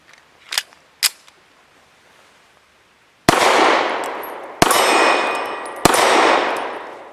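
An S&W Performance Center SW1911 Pro Series 9mm pistol fires Hornady 115 grain XTP hollow points, three loud sharp shots about a second apart, each ringing out, after a couple of small metallic clicks.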